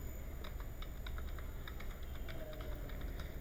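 Keys clack on a computer keyboard in a quick, irregular string of light taps, faint and close, with no voices.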